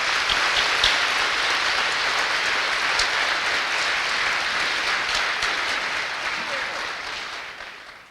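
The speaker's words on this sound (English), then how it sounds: "Let's give them all a round of applause" A large crowd at a fire and EMS academy graduation ceremony applauds in a dense, sustained wash of clapping that stays loud and fades out at the end.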